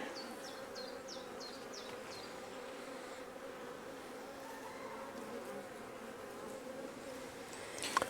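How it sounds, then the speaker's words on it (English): A steady, low drone of many honeybees buzzing continuously around a farm beehive, with a few faint chirps early on and a small knock near the end. "Gosh, there's a few bees on there."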